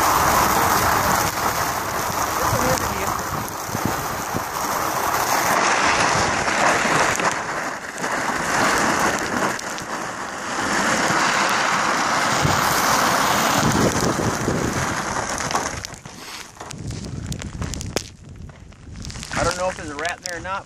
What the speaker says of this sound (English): It's gonna freeze and rain all day